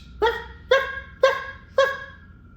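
A voice imitates a small Maltipoo, a Maltese-poodle cross, barking: four sharp, evenly spaced yaps, close and clear over a low background hum.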